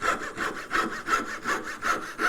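A hand saw cuts a dovetail in wood with a steady back-and-forth rasp, six or so even strokes, close and clear, with no talking.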